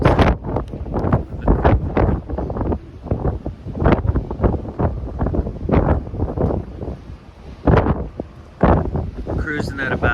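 Strong wind buffets the microphone on a cruise ship deck at sea, gusting in irregular bursts close up; a voice is faintly present beneath the roaring rush.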